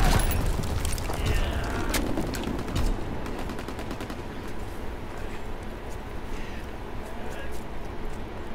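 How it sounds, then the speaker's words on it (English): A WWII-era shooter match erupts with a heavy bomb blast and scattered gunfire at the start, the boom rumbling low before fading into a steady wash of battlefield noise; voices talk over the din. "Enemy bomb incoming."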